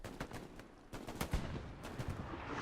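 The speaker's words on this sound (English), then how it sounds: "Oh, and then artillery comes," An artillery barrage in Hell Let Loose, rendered as a faint, distant series of irregular booms and cracks scattered across a few seconds, with no voices.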